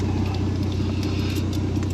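A turbocharged Holden VL car engine runs at a steady idle nearby, a constant low rumble with no change in pace across the short stretch.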